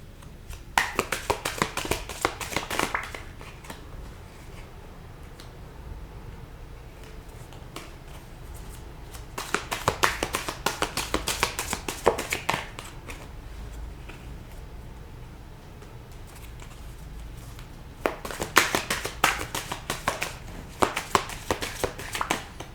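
A large tarot deck with more cards than usual being shuffled by hand: three separate bursts of quick, crisp riffling and tapping, each a few seconds long, separated by quiet pauses, close by and with no talk.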